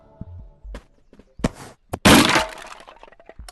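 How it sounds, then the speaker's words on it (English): A flash bomb grenade goes off in the VR game Animal Company: scattered thuds and clicks lead to a loud, sharp, crackling blast that decays over about a second, with no talk. "Grenade. Flash bomb."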